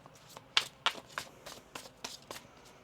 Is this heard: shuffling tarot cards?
yes